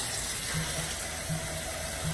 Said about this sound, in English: I'm running the warm water on it, like that, so that it can thaw out